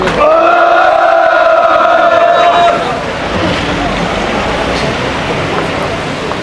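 A crowd at a candlelight protest rally over railway privatization roars to welcome a speaker. The loud sustained cheering and shouting fades after a few seconds into murmuring crowd noise.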